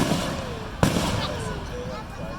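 A single sharp fireworks bang bursts out at a summer evening show down at the port, rising above a steady wash of crowd noise and nearby people talking.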